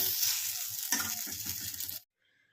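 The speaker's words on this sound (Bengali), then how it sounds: "আর এই দিকে দেখো আর একটা ভাজা চলছে এইভাবেই আজকে বেগুনগুলো ভাজলাম গোল করে ভাজিনি আর লোহার কড়াইতে" Eggplant slices frying in an iron wok hiss steadily and loudly up close for about two seconds, with a brief stirring bump partway through, then cut off to near silence.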